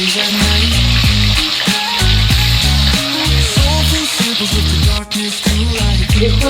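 Khayra fish frying in hot mustard oil in a kadai, a steady loud sizzle running throughout beneath background music.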